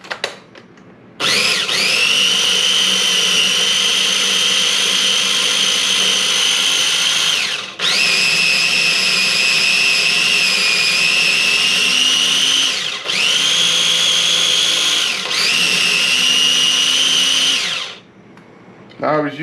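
A powered chopper grinding salsa ingredients whirs loudly and steadily in several long bursts, pausing briefly between runs as the blade direction switches between chop and grind.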